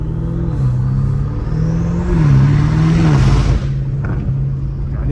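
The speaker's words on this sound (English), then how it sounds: "I love this exhaust" A straight-piped BMW M5 Competition revs hard, its loud exhaust swelling to a peak midway through before dropping back to a steady, burbling idle with faint crackles.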